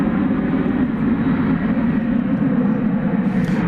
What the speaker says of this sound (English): Here's Alaska Flight 550. It's a 737-900 Dream.